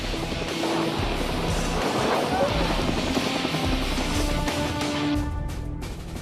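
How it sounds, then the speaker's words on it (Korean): An Army Cobra attack helicopter flies during a live-fire gunnery competition, giving a loud, continuous rotor and engine roar that fills the whole stretch with dense broadband noise. "이동훈 소령의 기량이 공격 헬기와 함께 점점 가속도가 붙는다."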